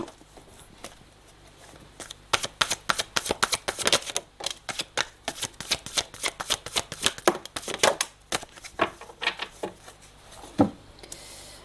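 Oracle cards being shuffled by hand in a rapid run of crisp riffling flicks, close and fairly loud, with a few isolated snaps toward the end and no talking.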